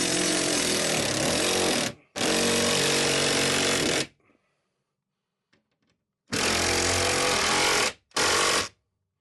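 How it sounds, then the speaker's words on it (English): Power tool driving a lag bolt with a 13 mm socket while mounting a 4x8 overhead garage storage rack: two loud sustained buzzing runs, a pause, then two more shorter bursts, close up. "grab one of those lag bolts and go ahead and use a 13 millimeter and tighten it down and in there."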